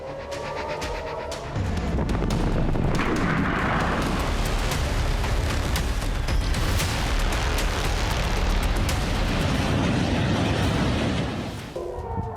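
A continuous roar of heavy explosions and booming artillery blasts, loud and dense, rumbling on for several seconds before easing off.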